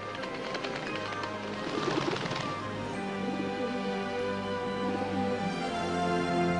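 A dove coos softly in a film scene, a few low repeated calls surrounded by a steady background of musical tones and ambience, with no voices.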